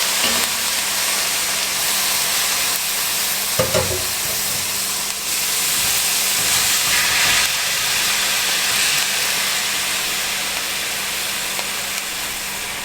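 Beef frying in a Dutch oven over medium-low heat for cowboy chili crackles with a steady, loud sizzle, broken by a few scraping stirs and bumps along the way.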